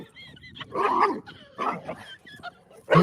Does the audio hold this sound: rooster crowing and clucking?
no